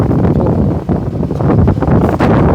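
Dry wind gusts steadily across an outdoor microphone at a rural house site in Thailand, a loud continuous rumbling roar with slight surges and no voices.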